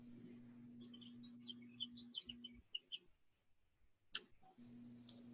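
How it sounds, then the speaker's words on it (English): Scattered high bird chirps over a steady low hum, light and intermittent, followed by one sharp click and a quiet stretch. "I hear the birds chirping in your backyard, Kenzie."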